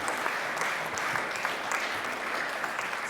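A congress audience breaks into sustained applause, a dense, even roar of many hands clapping at once that stays loud throughout with no break.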